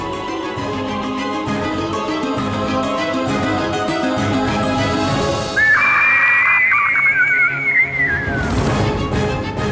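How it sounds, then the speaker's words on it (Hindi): A lapwing's shrill, drawn-out screech with a falling pitch sounds for a few seconds over continuous dramatic background music. "ये तो टिटहरी के चीखने की ध्वनि है।"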